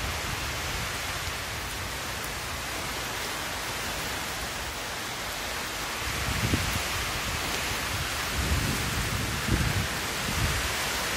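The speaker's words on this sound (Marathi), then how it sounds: "आणि अजून बी पाऊस चालू आहे" Heavy rain pours down in a dense, continuous roar, with deeper rumbling gusts swelling in the second half.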